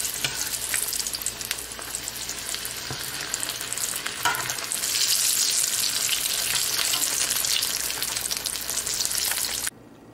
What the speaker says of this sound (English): and now fry this and at high heat fry this. Fry until golden brown.